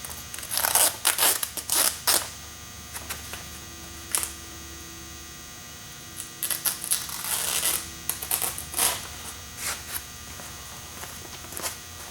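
Fabric covering on a Kolb Mark III aircraft fuselage is cut along the edge of the welded frame. Clusters of short, crisp snips come in two bursts over a steady electrical hum, with quiet pauses between them.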